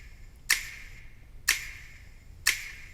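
Three crisp finger snap samples during mixing, evenly spaced about a second apart, each sharp and bright, ringing alone over a faint low hum.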